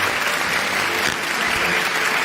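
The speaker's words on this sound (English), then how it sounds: "She deserves a round of applause again." An audience claps steadily at a student debate semi-final in Nigeria, a dense, even round of applause filling the whole moment without speech.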